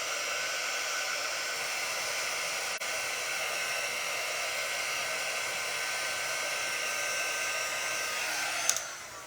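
Heat tool blowing steadily to dry chalk paste on a floral medallion craft project, a constant close whooshing hiss that runs unbroken throughout.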